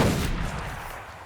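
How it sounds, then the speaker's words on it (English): A teppo matchlock gunshot with bullet ricochet in Assassin's Creed Shadows, a single sharp blast at the start that decays over about a second, moderately loud with no talk. "Bullets ricochet to nearby enemies."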